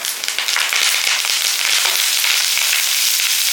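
Curry leaves hit hot oil in a pan for a tempering, bursting into loud, crackling sizzle that stays dense and steady throughout, with no voices.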